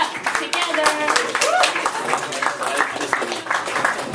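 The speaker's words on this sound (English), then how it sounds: "Put your hands in the place where you clap together" Audience at a comedy show at The White Horse clapping for a comedian, a steady burst of applause with scattered voices and cheers mixed in throughout.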